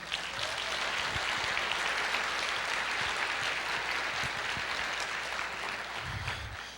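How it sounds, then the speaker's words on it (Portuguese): An audience claps continuously during a Portuguese-language sermon, a steady wash of applause at moderate distance with no clear break. "pode aplaudir."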